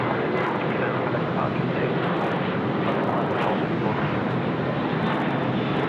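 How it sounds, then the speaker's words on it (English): A Japan Airlines jet airliner sits on the apron at Sydney Airport after pushback, its engines producing a loud, steady broadband roar that stays constant throughout. "So Japan Airlines friends now have just pushed back and they're getting ready to taxi"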